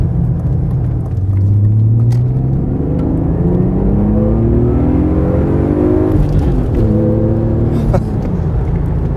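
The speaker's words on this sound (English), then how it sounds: "It loves to rev, obviously. It's an M3." Supercharged BMW E36 M3 with a Dinan Stage II setup revs hard on a test drive, its engine note climbing steadily in pitch, then dropping at a gear change and rising again under a constant loud in-cabin rumble.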